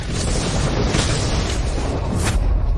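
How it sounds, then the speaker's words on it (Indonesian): A cultivator's self-detonation at the peak of the Mahayana realm erupts as a loud, sustained roaring boom that fills the whole stretch, dense and rumbling throughout with a brief surge near the end. "Ledakan diri puncak Mahayana."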